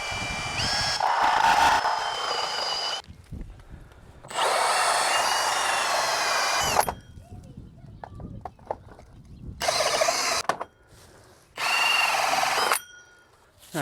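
Power drill running in reverse against vinyl siding, several loud whirring bursts of a few seconds each, separated by pauses with faint handling clatter.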